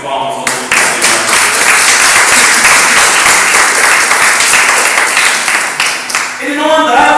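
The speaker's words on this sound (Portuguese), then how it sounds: "Então dê uma salva de palmas ao Senhor." A church congregation claps for the Lord during a sermon, loud sustained applause that starts abruptly and carries on evenly before breaking off near the end.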